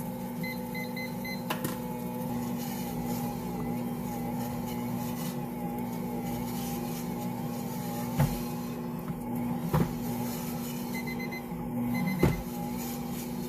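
A stand mixer kneads focaccia dough made with fresh wheat in a home kitchen, giving a steady, moderately loud motor hum with a constant whine, broken by a few short knocks from the bowl.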